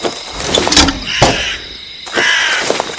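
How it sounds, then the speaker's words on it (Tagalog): Harsh, eerie bird calls ring out at night near an open window, a few loud rasping caws in short bursts with pauses between them, close by and with no talking. "Nakakatakot naman ang huni ng ibon na yun."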